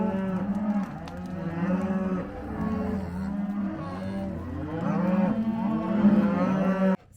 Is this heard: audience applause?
no